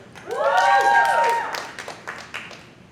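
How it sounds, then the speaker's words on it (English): A comedy club audience at the Miami Improv breaks into scattered, irregular clapping that continues after a loud spoken voice fades out. "Clap it up for Gio."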